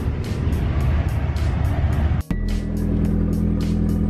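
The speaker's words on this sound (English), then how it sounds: "Cold start, baby." A performance car engine, freshly rebuilt with new clutch packs, cold-starts: a steady loud idle with rapid ticking pulses, a brief cutout, then a higher fast idle settling in, heard close and alone.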